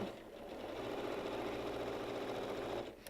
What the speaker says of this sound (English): I'm going to sew it on this corner so you'll get a feel for what it's going to look like